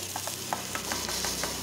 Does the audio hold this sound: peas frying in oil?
yes